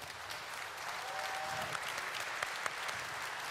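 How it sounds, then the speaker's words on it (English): A keynote crowd applauds the panel at EMC World 2015, a broad, moderately faint wash of clapping from a large hall, with a faint tonal line passing briefly and some background voices. "So big round of applause to the panel."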